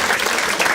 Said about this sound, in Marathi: टाळ्या वाजवा एकदा याच्यासाठी